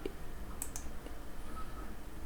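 Two quick, crisp computer mouse clicks close together while a web form is being tested, standing alone over a faint steady room hum with no voices.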